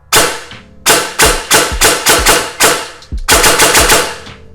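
VFC Avalon airsoft rifle shooting in semi-auto, about ten sharp close shots in quick uneven succession with a short pause near the middle, each a crisp loud crack with a brief mechanical ring, no talking.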